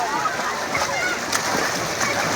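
Water splashing and sloshing steadily as someone takes a dip in the Ganges river during a holy bath, a busy continuous wash of splashes with voices murmuring in the background.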